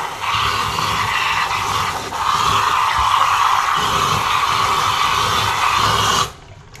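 Hot water pours steadily over kitchen utensils and a lid in a home kitchen, a close, continuous splashing rush that stops abruptly near the end.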